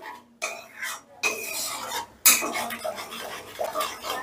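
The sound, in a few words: stirring yogurt into spice masala in a pan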